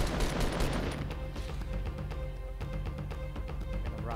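Video game gunfire in Fortnite Battle Royale: dense, overlapping bursts of rapid shots and booms crackle continuously, loud and busy throughout with no talk.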